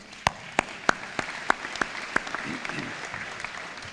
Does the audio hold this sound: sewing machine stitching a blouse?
no